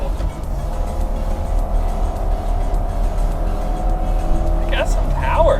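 A Subaru Impreza with a four-cylinder engine accelerates on a test drive, a steady close engine drone with road noise heard from inside the car, and a voice speaks briefly near the end.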